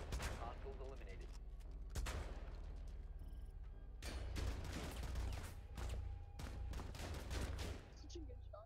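Shooting in the tactical video game Rainbow Six Siege, with shotgun play: several sharp, loud blasts spaced through the stretch over a constant low rumble of game ambience, with some talk underneath.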